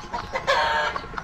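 A chicken clucks in short, repeated bursts, with one louder squawking cluck in the middle, fairly close and otherwise alone.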